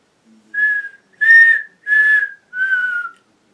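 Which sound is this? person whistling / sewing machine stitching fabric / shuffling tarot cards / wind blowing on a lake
person whistling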